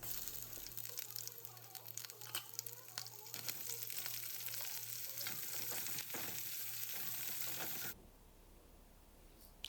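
Chili, curry leaves, grated ginger, asafoetida and onions sizzle and crackle in hot oil in a pan while being mixed, a steady close frying hiss with scattered stirring scrapes before the sizzle suddenly drops away near the end.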